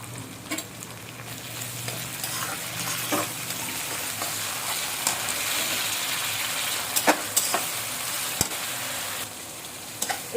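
Small shrimp sizzling in oil in a pan with ridge gourd, a steady close crackle of frying with occasional stirring scrapes and pops, no voices.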